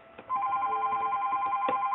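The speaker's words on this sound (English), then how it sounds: "Shoot, the phone." A telephone rings with a steady electronic trill that holds for most of two seconds after a brief quiet start, loud and close, with no speech.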